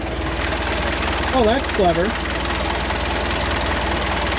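The inboard engine of a 1969 Alden 32 sailboat idles with a steady low chugging rumble, while a person briefly speaks over it nearby.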